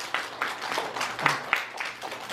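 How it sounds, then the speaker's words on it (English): A children's audience at a fossil park talk in Mineral Wells, Texas claps in scattered, uneven bursts, with individual sharp claps standing out, moderately close, and some faint voices mixed in. "can you give them a round of applause?"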